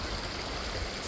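The North Mowich River on the Wonderland Trail rushes past close by in a dense, continuous roar of flowing water, steady throughout with no voices.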